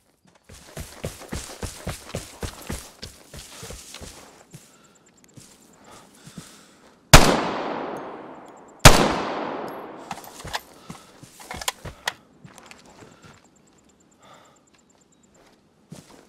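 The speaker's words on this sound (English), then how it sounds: "someone is here with a suppressed weapon" Suppressed weapon fire in the video game Vigor: two loud, sharp shots a couple of seconds apart, each with a long ringing decay, preceded by quick footsteps and light movement noise.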